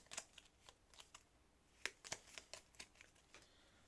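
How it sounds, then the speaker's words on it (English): Board game cards for Final Girl being shuffled close up, with quiet riffling bursts and sharp flicks and snaps spread unevenly across a few seconds. "We're going to shuffle this one up."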